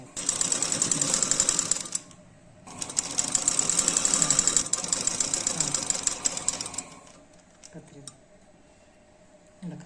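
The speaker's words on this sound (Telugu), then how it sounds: "ఇట్లా పెట్టుకొని 1/2 ఇంచ్కి లేదా 1/4 ఇంచ్కి స్టిచ్ చేసుకోవాలి. తక్కువ నెక్ మొత్తం అట్లే స్టిచ్ చేసుకోవాలి." A sewing machine stitches around the neck of a kurta in two fast, rattling runs, close and loud, then stops and leaves quieter handling noises, with someone talking over parts of it.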